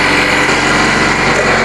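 Loud steady engine-like whine from blowing out dust around the motor of a Frontier OS27 sawmill during daily maintenance, close and constant.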